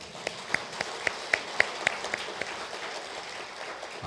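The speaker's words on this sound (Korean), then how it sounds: "이번에는 찬양대를 위해서 격려의 박수." Church congregation at an evening revival service clapping in encouragement for the choir, a moderate crowd applause with a few sharper individual claps standing out, steady and fairly close.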